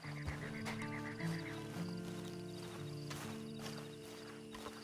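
Horse in Red Dead Redemption 2, heard as quiet hoof clip-clops with a brief whinny-like tone near the start, set among faint musical game ambience with no speech.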